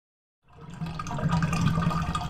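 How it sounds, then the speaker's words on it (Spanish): Water running down in a shower in the horror game Stigmatized Property: a steady, close rush of falling water that starts abruptly after a moment of silence and continues evenly to the end. "Está bajando el agua."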